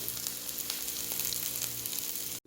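Sliced onion frying in a pan for a tuna sandwich filling gives a quiet, continuous crackling sizzle that cuts off abruptly at the end.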